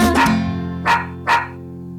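A dog barks three times, close and clear: a quick double bark followed by two separate single barks after a short pause.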